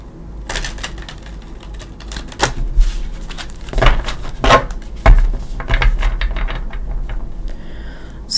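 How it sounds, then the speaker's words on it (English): Tarot of Dreams cards shuffled by hand, a run of crisp irregular riffling bursts and soft slaps, close and fairly loud, with quiet gaps between clusters and no talking. "I like to shuffle them with you here."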